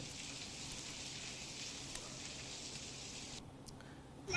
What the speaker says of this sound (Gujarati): તો વરસાદી માહોલ છે